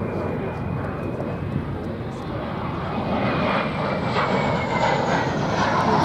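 The RAF's first jet fighter flies past at the Duxford air show with a loud, sustained jet roar that swells slightly toward the end, while a commentator talks over it.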